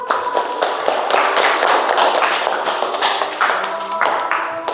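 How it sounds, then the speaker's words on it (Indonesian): Classroom audience applauding together after a student group presentation, a dense, steady patter of many hands clapping throughout, fairly close and moderately loud. "berikan tepuk tangan dulu"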